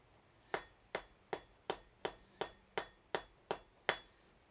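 Hot metal hammered on an anvil in a smithy, ten evenly spaced ringing strikes about every third of a second, sharp and clear with a short metallic ring after each.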